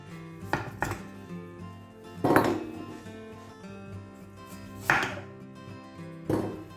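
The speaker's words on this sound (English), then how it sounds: "So if you just top and tail it, so cut off the top." A kitchen knife cuts the top off a butternut squash: several sharp chopping knocks against a board, spaced about a second or more apart, with a faint background hum.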